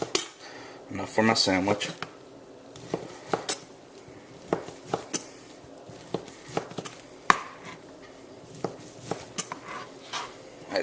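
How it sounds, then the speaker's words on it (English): A knife slices a couple of pieces off whole-muscle meat with the skin on, for a sandwich. Sharp, irregular taps and scrapes against a board and plate ring out between stretches of quiet, with someone talking briefly. "So I'm going to cut me a couple pieces off"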